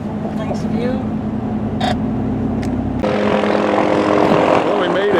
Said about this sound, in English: There goes a helicopter.